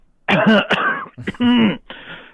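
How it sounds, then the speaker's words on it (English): A person coughs several times in a row, harsh and throaty, close to the microphone, in short separate bursts. "would probably start coughing uncontrollably and demonstrate my sickness to him."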